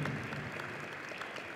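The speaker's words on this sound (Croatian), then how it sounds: "molim vas jedan aplauz" A short burst of audience applause, steady clapping from a crowd that holds at an even level for a moment.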